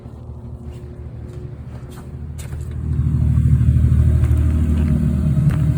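A Toyota Celica's 7A-FE engine runs steadily, then revs up louder and holds a raised, rumbling roar for the last few seconds, close by with no talk.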